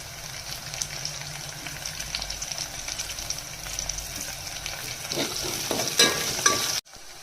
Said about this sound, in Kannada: ನೋಡಿ, ನಾನು ಫ್ರೈ ಮಾಡ್ಕೊತಾ ಇದ್ದೀನಿ. ಇವಾಗ ಕಡಿಪತ್ತನ ಹಾಕೋತಿದ್ದೀನಿ.